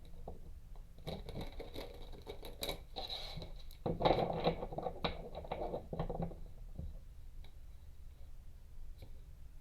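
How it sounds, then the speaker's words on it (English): Tarot cards are shuffled by hand in a quiet room, giving a run of soft irregular riffles and taps that builds to a denser flurry midway, then trails off into scattered clicks. "One more shuffle."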